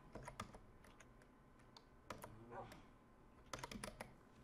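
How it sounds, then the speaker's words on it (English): Bursts of clicking keys on a computer keyboard during a Minecraft modpack session, quick irregular clusters of taps separated by pauses, close but fairly quiet, with faint voice sounds in the background. "There's no field, just start typing."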